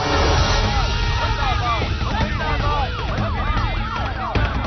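An ambulance siren wails through traffic, repeated rising and falling sweeps loud and near alongside other sirens and vehicle rumble, steady throughout.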